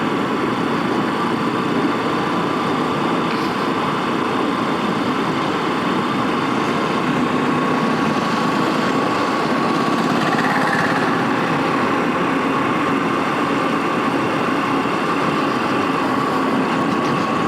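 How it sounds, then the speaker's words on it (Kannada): A vehicle engine drones steadily while driving along the Kanakapura highway, a constant near hum with wind and road noise that never lets up, no talking over it. "ಈಗ ಕನಕಪುರ ಹೈವೇಗೆ ಗಾಡಿ ತೊಗೊಂಡಿದ್ದೀನಿ"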